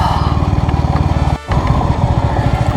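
A motorcycle engine runs loud and close near the Guna Caves entrance, a steady throbbing rumble that drops briefly mid-way before resuming.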